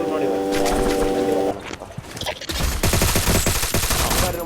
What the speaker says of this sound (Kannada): ಅವ್ ಸ್ಯಾಮ್ ಹೊಡೆದ್ರ ನೋಡಿ